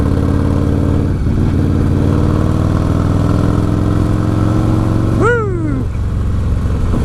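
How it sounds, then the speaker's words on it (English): A 1996 Harley-Davidson Softail with an Evo engine idles loudly, then is blipped in a sharp rev bomb near the end, the pitch rising fast and falling back, with a brief shout of excitement over it. "Rev bombs, baby. Evo rev bombs."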